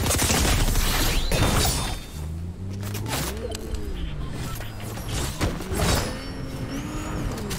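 A car driven in a video game, its engine rising and falling in pitch through revs and gear changes, preceded by a loud, harsh clattering rush at the start and backed by steady road noise.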